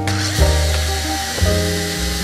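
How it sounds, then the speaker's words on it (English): Bolts being unscrewed from the front brake of a Diamondback Wildwood bicycle with a powered driver, giving a loud, close, steady motor whine that shifts pitch twice as the tool bites and spins, with no talking. "I'm gonna take these bolts out without hitting them with tri-flow first, see how easy they come out"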